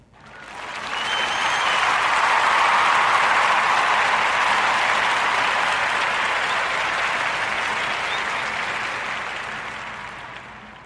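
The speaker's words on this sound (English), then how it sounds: "join me into giving Matthew and Janelle a warm Narrative Podcast round of applause for Boyd Crew Wines" Broad, steady round of applause from a group, rising within the first second and holding a dense, even roar for about ten seconds before easing off, with no speech over it.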